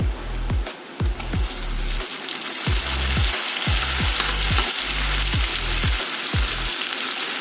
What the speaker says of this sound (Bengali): তাকে টমেটো দিয়ে দিচ্ছি